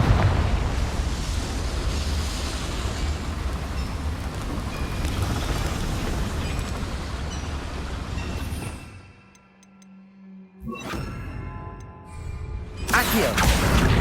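The Confringo blasting spell in the Hogwarts Legacy video game sets off a loud sustained crackling explosion that rumbles for several seconds, drops briefly quiet, then bursts again with sharp impacts.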